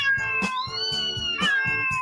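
A cat meows, with two drawn-out, wavering meows up close over a rhythmic musical backing beat.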